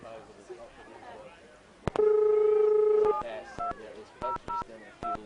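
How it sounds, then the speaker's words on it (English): A VoIP phone at a country football broadcast (Willunga v Victor Harbor) being dialed: a sharp click, a steady tone held about a second, then a string of short DTMF beeps over background murmur. "You'll have to ring back on the VoIP phone."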